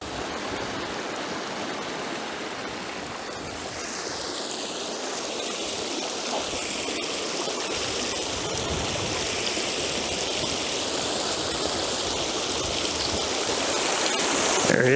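Small waterfalls spill along a trout stream, a steady broad rush of flowing water holding close and even throughout, slowly swelling louder toward the end with no voices.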